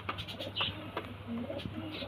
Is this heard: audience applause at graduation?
no